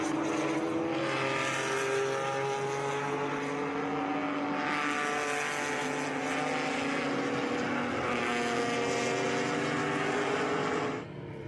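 Historic race cars at the Monterey Motorsports Reunion roar past in a steady, loud engine drone that swells and holds for about eleven seconds before easing off at the end, with no voices.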